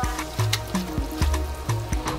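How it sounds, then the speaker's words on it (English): Water is poured into a large pot of jollof rice being cooked for a party-sized batch, a close splashing and trickling stream with short bursts and pauses. "add water that is good enough to cover the rice"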